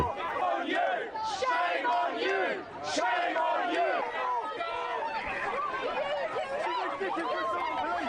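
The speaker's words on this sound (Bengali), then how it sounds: "বিক্ষোভকারীরা সেম অন পুলিশ বলে স্লোগান দিচ্ছে" Protesters in London chant slogans against police during a mass arrest demonstration, a dense crowd of overlapping shouting voices rising and falling steadily throughout, loud and close.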